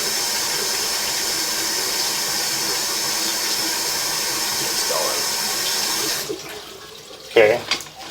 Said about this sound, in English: if we run water, it's probably not going to go that way